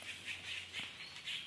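A flock of blackbirds squawking around a tent outdoors, with repeated harsh calls overlapping in bursts at a moderate distance, steady chatter throughout with no voices.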